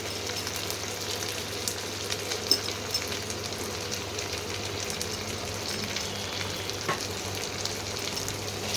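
Lamb kasa with chopped tomatoes fries in a pan, giving a continuous sizzle with faint stirring scrapes and a low steady hum underneath.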